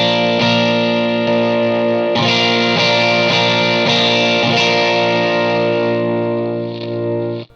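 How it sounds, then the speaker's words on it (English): Electric guitar through a Morning Glory overdrive pedal with its high cut switched on, playing sustained, lightly gritty chords with several re-strums, loud and steady before cutting off at the end. "I like to use the Morning Glory, just because it's not as punchy of an overdrive,"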